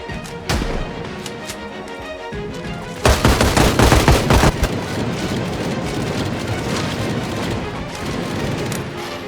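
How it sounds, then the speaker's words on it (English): Gunfire from bandits in the zombie survival game Project Zomboid, loud sharp shots in a rapid dense volley, then scattered bursts over a continuous rumbling background. "Oh, they're shooting."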